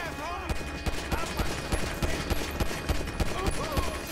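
Rapid bursts of gunfire from a GTA 5 video game firefight, sharp repeated shots in quick irregular volleys throughout, loud and close with some speech mixed in.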